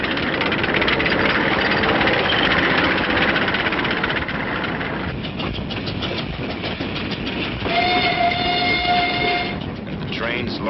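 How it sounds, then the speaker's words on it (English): Korean War trains, 1950-51, hauling wrecked equipment back for salvage and supplies up to the front, rumble and clatter over the rails, and a sustained horn blast sounds near the end above the continuous rolling noise. "And the trains loaded with war wearies going back for salvage."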